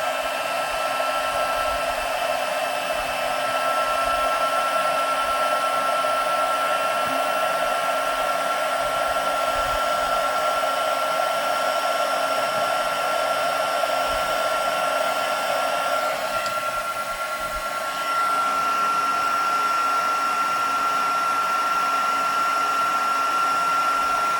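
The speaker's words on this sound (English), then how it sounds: "my heat tool is pretty hot" A heat tool blows hot air for card making, a loud, steady whirring blast with a constant motor whine running close for the whole stretch, dipping briefly partway through before resuming, no talking.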